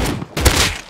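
Gunshot in the survival game Rust, a short, loud burst of gunfire with a sharp crack near the middle and brief echoing spread, no talking.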